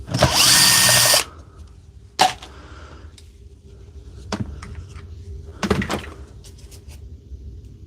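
A power drill works at the screws of a Dewalt battery pack, one loud sustained burst of whirring followed by scattered sharp clicks and knocks of handling, close up with no talk.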